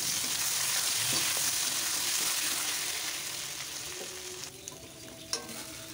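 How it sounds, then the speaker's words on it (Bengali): Eggplant frying in the same hot oil used earlier for fish, giving a steady, close, dense sizzle that eases slightly toward the end, with a few small clinks near the finish. "মাছ ভাজার পর ওই একই তেলে আমি বেগুনগুলো ভেজে নেব।"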